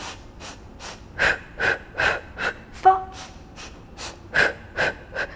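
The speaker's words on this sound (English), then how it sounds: "So keep breathing. Inhale and exhale." Heavy, rhythmic breathing from a person doing a home total-body strength workout. About a dozen close, forceful puffs of inhales and exhales come in steady succession, with one brief spoken word in the middle.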